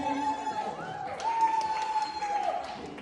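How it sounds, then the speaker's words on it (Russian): Audience applause at a party show, a soft spread of clapping rising in the middle under music with a sustained tone, moderately distant and fairly faint. "Аплодисменты."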